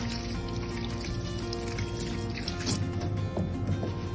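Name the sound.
rinsing hands under running warm water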